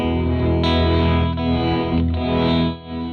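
Electric guitar runs through a Pigtronix Cosmosis stereo reverb pedal with its morph speed turned up, giving a dense, sustained, shimmering wash with distorted, swirling modulation that swells and fades over a few seconds.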